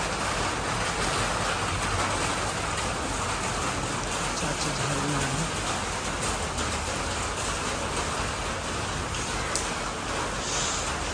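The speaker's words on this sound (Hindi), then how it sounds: "बारिश देखो," Steady rain drums on a car's roof and windshield in a continuous, even hiss. A brief spoken comment from inside the vehicle sits under the downpour.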